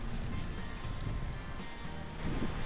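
Steady broadband rush of wind and running water in a mountain valley in Seoraksan, continuous and fairly loud, with a low rumbling undertone and no voices.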